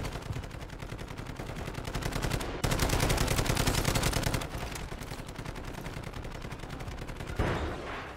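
Sustained automatic fire from a hacked turret in the Modern Warfare 3 campaign, a dense, loud stream of rapid shots running for several seconds with a brief break and a renewed burst near the end, with no voices.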